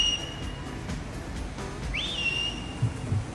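A person whistles to call parrots, with a long steady high tone followed by a rising, swooping whistle, close and clear over a low background rumble and a few soft knocks.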